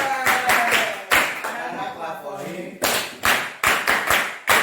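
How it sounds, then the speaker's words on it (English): A few students clap in short separate bursts in a classroom, sharp taps standing out loud and close between pauses, with some chatter in the gaps. "Let's clap for him."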